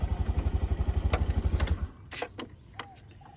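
A motorbike engine idles at close range on Koh Lanta with a rapid, even low putter, then cuts off partway through, leaving a few faint clicks and rustles.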